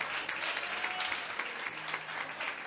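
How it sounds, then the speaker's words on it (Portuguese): Church congregation applauding during a worship service, a steady wash of many hands clapping together, moderately loud and continuous throughout with no voices standing out. "nós queremos render a vocês a salva de palmas para a igreja"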